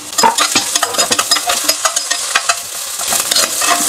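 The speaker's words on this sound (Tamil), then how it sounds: "வந்து வெங்காயம் லைட்டாக வதக்கிக்கலாம்." Onions frying and being sautéed in oil, a close, bright sizzle with repeated stirring scrapes and crackles in an uneven rhythm, no voices.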